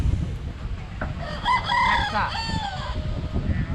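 A rooster crows clearly at a rural poultry market selling country chickens, ducks and geese in Goyhatta, one drawn-out call rising over the low murmur of the market crowd.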